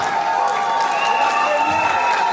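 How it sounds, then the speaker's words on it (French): Steady applause from a crowd with some cheering, under a sustained tonal hum, loud and continuous throughout. "Applaudissez pour Karim Mapouna."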